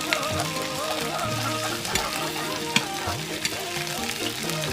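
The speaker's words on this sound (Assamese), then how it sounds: "মাছখিনি অকণমান ফ্ৰাই কৰি লৈছো" Oil sizzles and spits steadily as boroli fish fries in a pan over low heat, with a faint tonal hum in the background and no talking.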